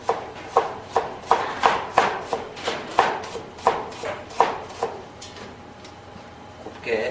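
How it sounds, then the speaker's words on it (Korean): A knife cuts carrots into fine julienne strips on a cutting board, with a steady run of crisp chopping taps at close range that thins out and stops near the end. "곱게 채를 썰어주시면 되겠습니다."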